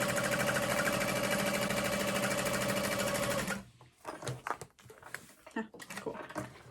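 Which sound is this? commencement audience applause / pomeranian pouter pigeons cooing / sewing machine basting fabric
sewing machine basting fabric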